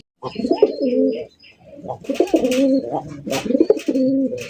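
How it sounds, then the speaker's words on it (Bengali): Russian high-flying Giribaz pigeons coo in repeated low, throaty bursts close by, with a short pause between calls and faint chirps in the background. "এখানে রয়েছে একটা রাশিয়া হাইফ্লাইং গিরিবাজ কবুতর দেখতেই পাচ্ছেন"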